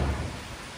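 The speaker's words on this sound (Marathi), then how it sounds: "म्हणजे पाऊस पण येलो" Rain falling with a low rumble of thunder in the Konkan countryside near a small temple hall, a steady broadband wash with a deep roll fading over under a second.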